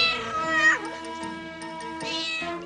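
A giant cartoon cat lets out loud, drawn-out meows, a long wavering cry that dips and rises, then a second yowl, with no talk over it.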